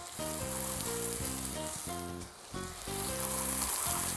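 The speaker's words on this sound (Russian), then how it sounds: "И теперь мы сразу начинаем выкладывать наши тефтели на сковороду." Meatballs fry in olive oil in a pan, giving a steady close sizzle with crackling pops and a brief dip partway through, with no voices.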